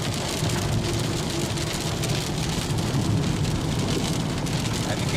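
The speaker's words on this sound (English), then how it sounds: "it has started raining heavily" Heavy rain falls during a road trip from Delhi toward Amritsar, heard from a moving car as a loud, continuous hiss of drops drumming on the vehicle, with low road rumble underneath.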